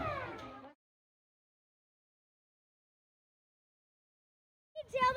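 A cat meows twice, with one clear call at the start and another at the end, close and distinct, separated by several seconds of silence.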